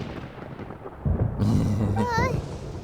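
Thunder rumbles in the video game Genshin Impact, a deep swelling roll that builds halfway through and lingers loudly, with a voice speaking over it.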